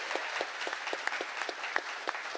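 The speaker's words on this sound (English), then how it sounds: "So one more round of applause for DigiKey," An audience at a hardware conference prize ceremony applauds a sponsor, with scattered individual claps standing out sharply over a steady crowd patter.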